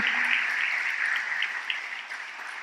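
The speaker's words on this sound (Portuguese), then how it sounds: "Quem pode aplaudir o Senhor Jesus por isso?" A church congregation applauds together, a dense, steady patter of many hands clapping that stays fairly loud and even before tapering slightly toward the end.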